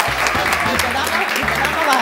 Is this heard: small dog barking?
no